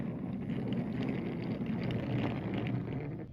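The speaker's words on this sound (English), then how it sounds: "Heavy wind and rain had started and wasn't letting up." Steady, heavy wind roars with a dense wash of noise that sounds like driving rain, continuous and loud throughout without letup.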